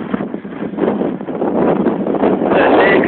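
Strong, steady mountain wind at high altitude near Zdravets hut in Bulgaria buffets the microphone in a continuous loud roar that builds and gusts, with no voices.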